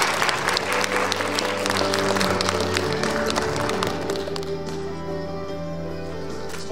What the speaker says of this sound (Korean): 네, 여러분 박수로